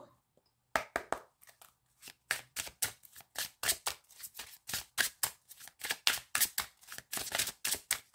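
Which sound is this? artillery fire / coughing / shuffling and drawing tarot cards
shuffling and drawing tarot cards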